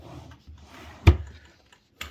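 A wooden drawer in a fly-tying bench bumps and slides open: a few soft scrapes, then one heavy knock, and a lighter tap after it, close by in a quiet room.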